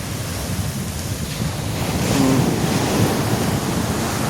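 Rough-sea ocean surf rumbles and washes continuously about twenty metres from a mosque on the Kerala coast at Chembarikka, a steady broad roar with gentle swells and some wind, no voices.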